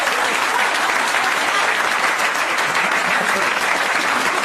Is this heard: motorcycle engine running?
no